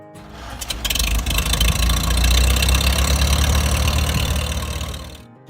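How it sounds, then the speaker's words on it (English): A Farmall H tractor's 152 cubic inch four-cylinder International Harvester gasoline engine runs steadily and loud, a low rumbling throb that swells, holds for several seconds, then fades out. "it was powered by International Harvester's proven 152 cubic inch 4-cylinder gasoline engine"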